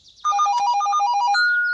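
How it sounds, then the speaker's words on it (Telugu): A mobile phone rings, a clear, close electronic ringtone of rapid repeating melodic tones that begins after a short quiet lead-in and continues steadily, with no voices. "ఫోన్ రింగ్ అవుతుందా?"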